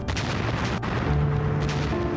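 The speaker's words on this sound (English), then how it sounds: "The firing of a machine gun, the blast from a cannon." Rapid bursts of machine gun fire with a heavy cannon boom, loud and close, echoing in a continuous barrage with no voices.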